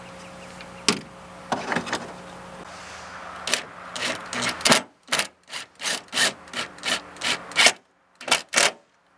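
Phillips screwdriver driving screws into tonneau cover rail hardware on a truck bed, a series of short scraping, ratcheting turns in a quickening rhythm, close and clear with no talk.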